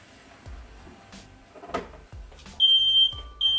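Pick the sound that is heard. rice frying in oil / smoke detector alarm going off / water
smoke detector alarm going off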